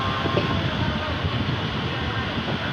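A train arriving at Gomti Nagar railway station, a continuous low rumble and rolling rail noise, steady and fairly loud, with faint voices in the background.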